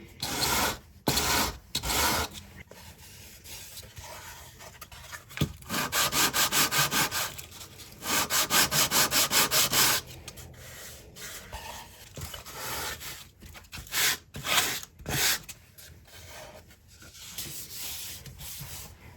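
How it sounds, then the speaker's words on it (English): Sandpaper rubbing over the uneven wooden or card edges of a handmade gift box on a flat surface, in close repeated strokes with louder sustained bursts in the middle, no talking. "You can clean those up either using a knife or some sandpaper."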